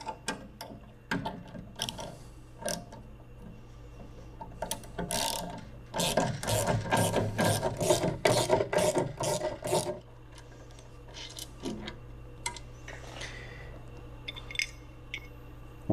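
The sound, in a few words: removing luggage rack brackets with hex tool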